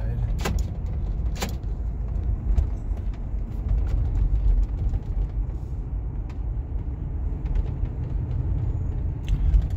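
A 1994 Ford F150 pickup truck with 96,000 miles drives along, heard from inside a quiet cabin as a steady low road rumble with a few faint clicks and knocks.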